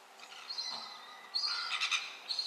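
A red-billed gull gives a recorded call of shrill, high squawks in two or three bursts, loud and close with no other sound.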